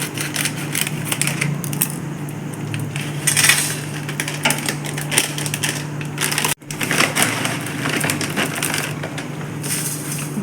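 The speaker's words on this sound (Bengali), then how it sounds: "চিপসের প্যাকেটটাও কাটছি কেটে থালার মধ্যে ঢেলে রাখবো" A chips packet is cut open and its chips tip onto a plate, giving dense, close crinkling and crunching rustles that run on for several seconds, broken by one brief gap.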